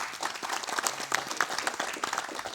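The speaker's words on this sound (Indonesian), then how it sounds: "Baik, kita bolehkan beri tepuk tangan." A campaign-stage audience for a legislative candidates' event in Madura applauds steadily, dense clapping filling the clip at moderate loudness with no speech over it.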